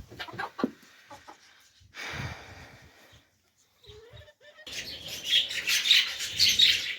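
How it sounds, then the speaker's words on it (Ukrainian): Chickens cluck and chirp in short bursts with scattered knocks and rustling in a parrot room, building to a louder burst of bird calls near the end. "ось кури такі у нас, які несуть яйця для папуг"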